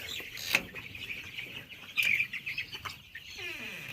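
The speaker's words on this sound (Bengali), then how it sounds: "এই হচ্ছে আমার 19 দিনের মুরগি আলহামদুলিল্লাহ" Young 19-day-old Sonali super hybrid chickens in a poultry shed give soft clucks and chirps, with a couple of louder calls standing out over a low, steady background hum.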